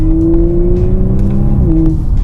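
An Audi RS5 engine drones steadily at a constant pitch, then dips slightly near the end as the revs shift, loud and close with no talking.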